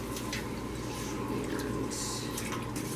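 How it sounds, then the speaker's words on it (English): A dishwasher running with glass canning jars inside, a steady wash of sloshing and dripping water with a constant low mechanical hum, heard close in a home kitchen with a voice talking over it. "I've got my jars in the washer now, which you can probably hear behind me"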